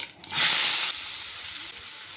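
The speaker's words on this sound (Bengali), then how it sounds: "পেঁয়াজটাকে একটু ভেজে নেব।" Chopped onion frying in hot mustard oil with black cumin seeds: a loud sizzling burst as the onion hits the pan, settling into a steady, softer hiss of frying close by.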